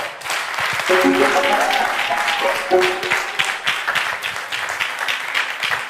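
Audience at a Bible quiz contest applauds a contestant, a sustained burst of dense clapping with a brief musical tone and voices mixed in, fading toward the end.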